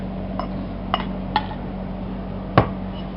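Cutlet mixture of cheese, chilies, cooked carrot, salt and black pepper being mixed in a bowl, with a few sparse clinks of utensil against the bowl over a low steady hum.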